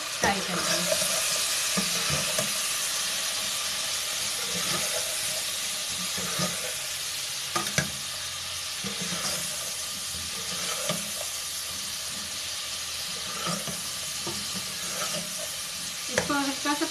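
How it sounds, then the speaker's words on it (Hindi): Cumin, coriander powder and garam masala fry in hot oil for a chicken korma, a steady close sizzle with occasional sharp stirring scrapes and clinks across the whole stretch, a voice briefly audible. "ये जीरा धनिया पाउडर और ये गरम मसाला, इन तमाम चीज़ों को अच्छी तरह से फ्राई करते हैं।"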